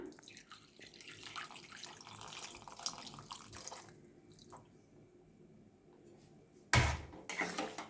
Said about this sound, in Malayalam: ഇനി നമുക്ക് പുളി പിഴിഞ്ഞൊഴിക്കാം